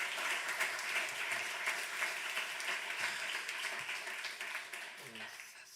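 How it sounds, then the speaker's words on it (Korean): A church congregation applauds during a Sunday morning worship service, a dense, steady wash of many hands clapping together for several seconds, fading slightly toward the end. "모든 영광을 우리 하나님께 좀 박수로 올려드리면 좋겠습니다."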